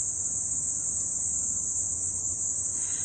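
A cricket chirps in a continuous high, steady trill, close and constant over faint low background hum.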